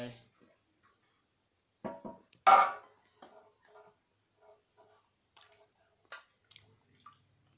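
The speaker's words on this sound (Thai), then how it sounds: "ทีนี้ก็จะเริ่ม ตักน้ำลงไป" Water ladled into a pot while preparing Shan-style Thai rice noodles from dried noodles, sparse splashes and drips separated by quiet gaps, with one louder pour near the start.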